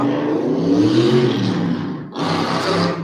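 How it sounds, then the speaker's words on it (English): A loud motorbike roars past close by, its engine droning steadily with a rising whine, briefly dipping before surging again, with no talking over it. "Loud motorbike."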